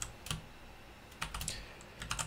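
Quiet typing on a computer keyboard, a few short clusters of crisp key clicks with pauses between them, close and alone.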